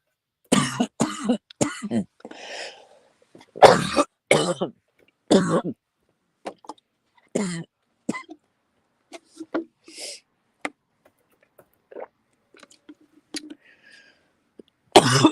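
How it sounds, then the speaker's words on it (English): A person coughs and clears their throat in a series of sharp, close bursts, separated by pauses and quieter breaths. "I hate this coughing."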